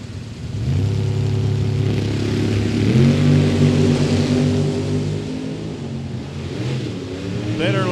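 Camaro and Cuda drag racing at Mid Michigan Motorplex, their engines droning loud and steady, the pitch stepping up partway through as the cars accelerate, then a higher whine near the end.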